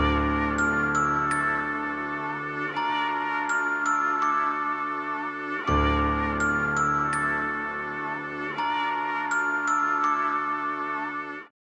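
A Celeste preset in FL Studio plays a dry melody with no effects: bright, bell-like tinkling notes in a repeating phrase, clear and up close, with a soft low note starting each bar.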